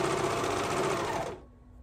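A serger stitching the seams of baby bell bottoms, running in a fast, loud whirring burst for over a second before stopping abruptly.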